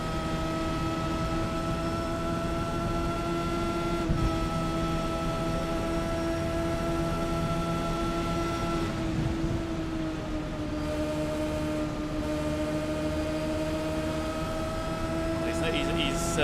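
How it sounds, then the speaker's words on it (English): Classic IndyCar race car engines in a racing video game drone steadily throughout, sustained tonal engine notes that shift pitch slightly as cars run in a pack, with a continuous loud wash of noise and commentary underneath. "Kind of want to listen to the engine notes here for a moment."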